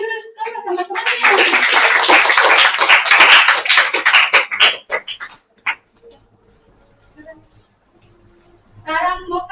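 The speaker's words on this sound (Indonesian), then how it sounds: "Tepuk tangan dulu sama temannya." Classmates clap together in a classroom, a dense burst of many hands lasting several seconds before tapering to scattered claps and quiet, with a voice briefly heard at the end.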